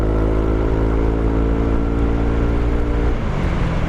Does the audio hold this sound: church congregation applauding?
no